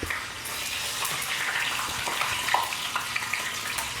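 Meat frying in a pan in a home kitchen during Ramadan preparations, while mulukhiyya is stirred alongside; a steady, close sizzle and hiss runs throughout with small bursts of crackle and no talk.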